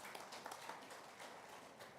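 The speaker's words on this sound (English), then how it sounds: "the applause on this is coming from the left side" An audience at a policing summit applauds: faint, steady clapping from many hands in a large hall, heard from a distance as a continuous patter with no talking over it.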